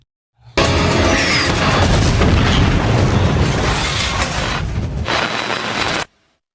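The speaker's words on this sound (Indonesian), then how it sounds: "Sementara itu, Frank tewas terkena tembakan roket." A rocket blast in an action film erupts as one long, loud, roaring explosion with a dense rumbling body. It holds for about five seconds before cutting off abruptly.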